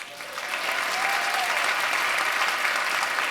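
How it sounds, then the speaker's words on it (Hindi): A live audience bursts into applause for a couple at a retirement celebration, the clapping dense and steady after a brief quieter start. "उनके लिए तालियां होनी चाहिए।"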